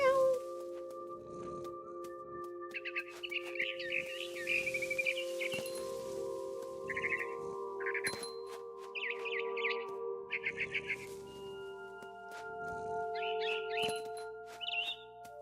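Birds chirping in What Remains of Edith Finch video game, scattered bursts of short calls throughout over steady droning game ambience and music, with soft low thumps in between.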